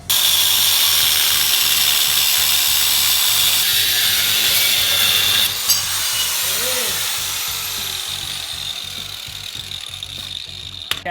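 Loud, steady power-tool cutting through a Gen 3 Toyota 4Runner front bumper end cap, a continuous high whine running nearly unbroken for about eleven seconds with a brief shift partway through.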